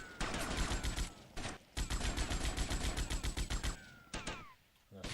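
Rapid bursts of automatic gunfire from the video game GTA Vice City, loud and close, with dense volleys broken by short pauses and a final few shots near the end.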